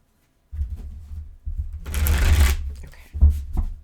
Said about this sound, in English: give it one more shuffle, please